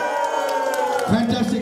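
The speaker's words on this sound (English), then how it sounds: "And one more time, while clapping, you got to make some noise." A crowd at a wedding reception cheers and shouts together in a loud, dense burst of voices, with a brief swell of sharper cries near the end.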